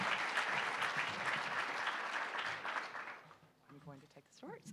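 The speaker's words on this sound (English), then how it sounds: "A round of applause to everyone who got up." A symposium audience on food security gives a loud round of clapping that holds for about three seconds, then fades out as a voice begins speaking close by.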